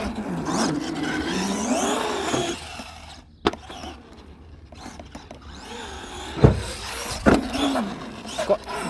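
A two-wheel-drive Arrma Gorgon RC car with big wheels runs around a skatepark, its motor whirring and revving with sharp clatters and thumps from landings and crashes.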